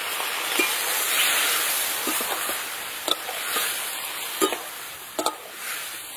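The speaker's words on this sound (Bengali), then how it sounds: "ভালো করে কচুটাকে একটু কষিয়ে নেব" Taro with ginger, green chili paste, coriander, cumin, turmeric and a little water being stir-fried in a pan: a soft, continuous sizzle with a few sharp spatula scrapes and clinks, fairly quiet and close.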